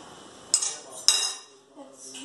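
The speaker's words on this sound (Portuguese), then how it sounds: "Vou pegar essa colher." Spoon clinking against a dish twice in quick succession, bright metallic taps close by with short ringing decay, followed by quieter handling.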